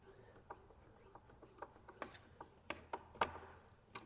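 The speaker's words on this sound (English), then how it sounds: "Couldn't get a driver bit that was skinny enough to fit in this hole for these number 6 screws, so I'm just running these in by hand." Number 6 screws driven by hand with a screwdriver while fitting Hettich lights, giving a quiet sequence of small clicking, ratchet-like ticks at an uneven pace, close by and with no talk.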